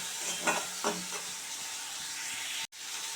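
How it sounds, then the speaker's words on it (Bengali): Prawns frying until browned in a pan give off a soft, steady sizzle and hiss, with a few brief stirring scrapes near the start and a sudden short dropout near the end. "এবার চিংড়ি মাছগুলো ভালো করে লাল করে ভাজবো"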